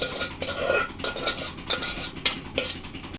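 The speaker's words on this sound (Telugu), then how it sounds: "మనం గోంగూరని ఇందులో మిక్స్ చేసుకొని" A spoon scraping and clattering in a pot as gongura leaves are stirred into chicken curry, with brisk repeated metallic scrapes and taps close up, no voices.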